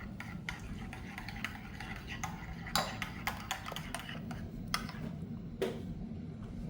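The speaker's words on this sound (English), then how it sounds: "Now we're going to mix our sauce all together" Utensil stirring crab cake sauce together in a bowl, a run of light irregular ticks and clinks over a low background hum, with a few sharper taps.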